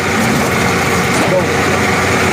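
A Hud-son log splitter at a woodsman days equipment show runs with a steady, loud engine drone throughout, with no distinct splitting crack standing out.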